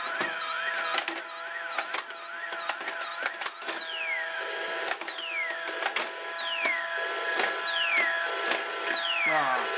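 An Atom pinball machine plays loudly with rapid electronic bleeps, descending tones, and constant clacking of the ball and flippers, busy and continuous throughout.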